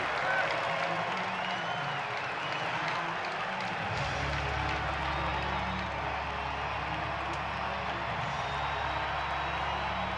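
A ballpark crowd of over thirty thousand cheers and claps at a Major League Baseball game, a broad sustained roar with scattered applause under a commentator's voice.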